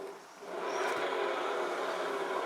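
Kymco Agility 125 scooter engine running steadily after starting, a continuous, slightly noisy buzzing drone that rises at the start and holds constant, close by with no talking.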